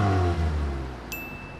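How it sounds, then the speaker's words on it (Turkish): An animated bus engine gives a deep, loud rev up close that gradually fades, ending with a thin high tone entering near the end, with no talking. "Gördüğün gibi son derece güçlü bir motorum var."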